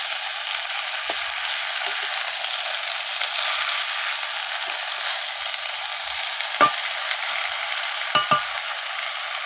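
Malabar spinach (poi saag) is stir-fried with onions, a hissy sizzle with a faint hum under it. Now and then a utensil scrapes or clicks against the pan, and nobody speaks.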